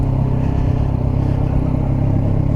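Motorcycle engines rumble loud and close at a Sunday bike meet outside a garage, a steady low drone with no speech.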